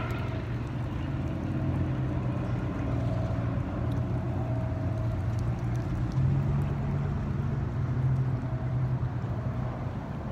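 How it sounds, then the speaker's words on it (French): A car and a helicopter pass outdoors, heard as a steady, fairly loud low engine drone with a humming tone that holds for about ten seconds, with no talking. "Je laisse passer l'hélicoptère là-bas. Et la voiture qui fait du bruit là."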